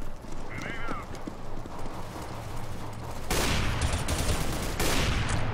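Rapid gunfire in the video game Counter-Strike: Global Offensive breaks out in dense bursts partway through, loud and crowded, with faint talk earlier over background game noise.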